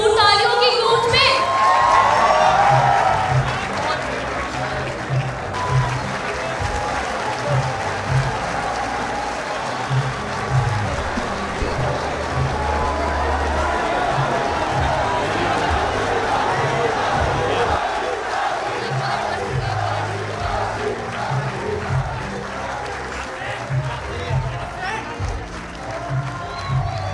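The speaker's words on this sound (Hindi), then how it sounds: "आपकी भरपूर तालियों की गूंज में" Audience at a poetry event in Hindi-Urdu applauds and cheers with loud, sustained clapping and crowd noise, some shouts rising over it, continuing steadily throughout.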